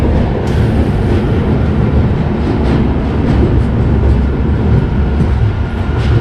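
Rajdhani Express train running on the rails between Hazrat Nizamuddin and Coimbatore, a loud continuous rumble with faint rhythmic clicks of the wheels, heard steadily from inside the train with no talking.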